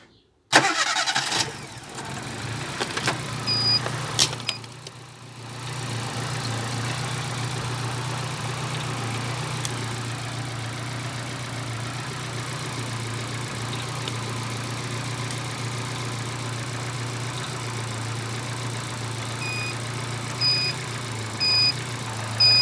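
An engine is cranked without a battery and catches after a few seconds of sharp starter noise and clatter, then settles into a steady, close, even idle hum that runs on alone with no talking.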